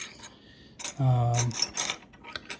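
An Ontario sterling silver spoon is picked up and handled, giving a brief cluster of close metallic clinks and a short ringing tone, then a few lighter taps.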